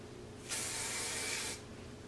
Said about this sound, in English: And I'm just gonna spray this root lifter.